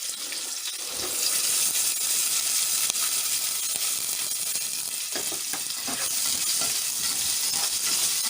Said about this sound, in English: That's the onions and the garlic that she's putting in.